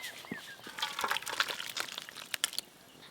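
Cooked fish curry with small eggplants is poured out of a pot, giving quiet, intermittent wet splashes and light clinks over a few seconds.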